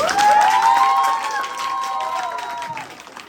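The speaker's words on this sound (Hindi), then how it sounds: "एक बार जोरदार तालियां आप अपने सब लोगों के लिए" Spectators at a Lalit Kala art show applaud the participating artists. Broad clapping runs alongside a high, sliding whistle or cheer early on, then the applause continues more softly until it thins out.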